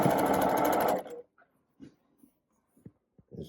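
A sewing machine runs steadily for about a second as it stitches a quarter-inch quilt seam, then stops, leaving only faint scattered handling noises.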